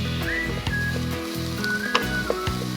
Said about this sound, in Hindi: अब हम इसमें हरी मिर्च डालेंगे